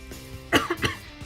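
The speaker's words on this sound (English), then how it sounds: "There goes that cough again" A couple of short, close coughs in quick succession, fairly loud against a quiet room.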